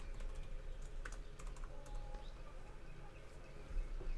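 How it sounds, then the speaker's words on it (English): Typing on a computer keyboard: quiet, irregular key clicks over a low background hum, close by and soft throughout. "So Jeffrey Day, I'm going to type in Gilian."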